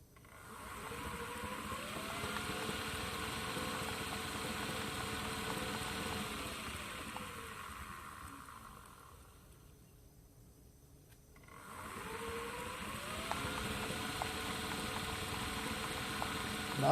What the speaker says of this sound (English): So I want to show you the brushless motor in operation, and it's wired into 40 volts.